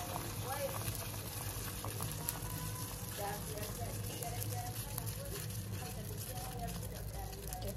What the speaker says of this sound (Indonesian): Tuh ayamnya sudah mendidih